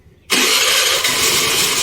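A Honda Activa scooter engine fires up abruptly after a short silence and settles into a loud, steady running roar close by.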